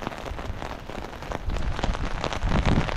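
Rain falls steadily on surfaces around someone walking up a main street, a dense constant patter that grows louder and heavier toward the end.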